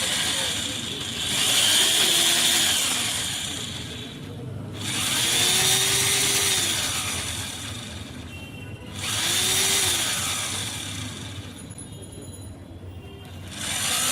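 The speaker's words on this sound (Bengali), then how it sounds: "হেভি কোয়ালিটির মধ্যে একটা বোরাই ব্র্যান্ডের হ্যামার ড্রিল আপনাদের জন্য চালায় দেখাচ্ছি।" A Boray brand hammer drill, heavy-duty model, revs up in three separate loud bursts, each whining for a few seconds before spinning down into short gaps.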